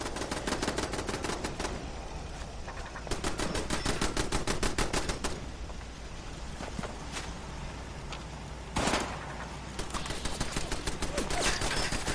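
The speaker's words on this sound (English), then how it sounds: "What are you guys shooting at?" Rapid gunfire rattles through a Fallout 76 firefight, long bursts of automatic shots with brief pauses and a sharp louder volley near the end, steady and fairly close throughout.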